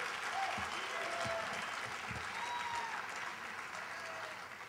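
Applause from a graduation ceremony audience for a Year Up Boston graduating class, a steady dense wash of many hands clapping that holds for nearly five seconds, then thins slightly toward the end, with faint voices and a whistle or two mixed in.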